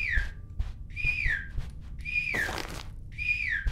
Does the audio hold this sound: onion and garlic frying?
no